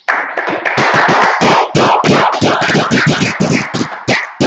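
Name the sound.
audience clapping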